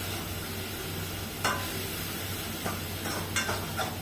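Onion sautéing in oil over high heat for coriander soup, giving a steady close sizzle with a few sharp spatula clicks against the pan.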